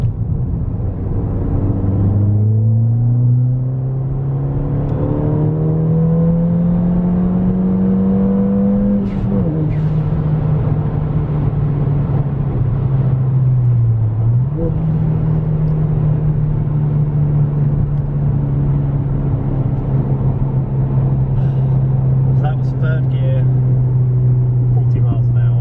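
Ford Fiesta ST180 engine pulling hard through third gear from about 30 to 40 mph, a loud, steady in-cabin drone that climbs in pitch, dips briefly at a shift or lift, then holds, with a voice talking over it.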